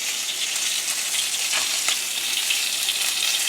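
Lamb chops sizzle and fry loudly in a hot pan as they are flipped, a steady dense crackle running throughout with a couple of brief scraping touches midway.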